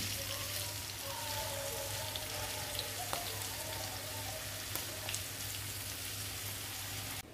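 Fish roe (gaboli) frying in a pan, a steady dense sizzle and crackle throughout, with a constant low hum underneath and a few faint clicks, no voices.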